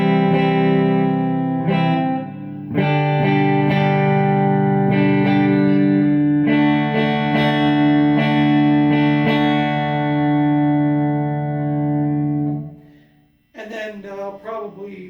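Electric guitar played with a clean tone through a Bad Cat Cub amplifier on a fuzz pedal comparison, sustained ringing chords struck one after another, loud and alone, then a short pause and a few quick picked notes.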